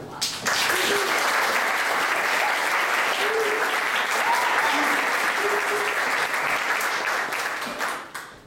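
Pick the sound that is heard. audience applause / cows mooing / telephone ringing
audience applause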